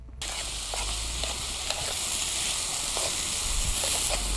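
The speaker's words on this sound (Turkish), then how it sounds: "Şu anda soğanımızla biberimizi kavuruyoruz." Onions and peppers sauté in a hot pan with a steady, close hiss and sizzle that starts suddenly and holds, broken by faint clicks of stirring.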